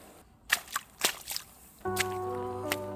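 Footsteps squelch and slosh through wet, melting snow slush, a few soft splashy steps up close, followed by a steady mechanical hum.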